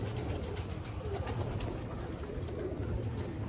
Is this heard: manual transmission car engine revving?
no